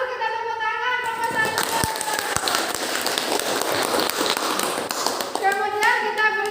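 Children in a classroom clap together for the winning poster group, a dense burst of applause that swells between short stretches of a teacher speaking.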